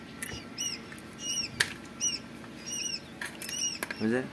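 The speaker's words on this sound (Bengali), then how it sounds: "এই যে ইউরোপীয় আছে, ইউরোপীয় কটনিক্স কুইল, এই যে ইউরোপীয় কটনিক্স" European coturnix quails moving inside a cage at a bird shop, with repeated soft wing flutters, light pattering steps and a few scratchy rustles close by, and no speech.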